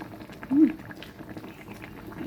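Vegetables simmer in a pot for boal fish curry, soft bubbling and gentle liquid burbles at low volume, with one brief louder gurgle early on.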